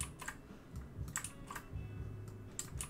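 A computer keyboard clacks with a handful of quick, close key presses in short clusters, a shortcut being typed with no speech over it.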